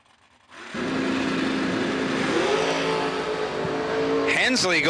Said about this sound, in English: Brandon Jarrell, 578 in the 69 Camaro in the right lane